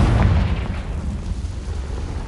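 A Confringo blasting spell from Hogwarts Legacy goes off as a loud, close, rumbling explosion with a heavy low boom that fades into a noisy roar over about two seconds.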